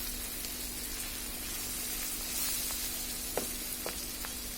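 Sweet pumpkin slices fry in a pan with a steady, close sizzle; a few brief scraping clicks come as the slices are turned over, and no one speaks.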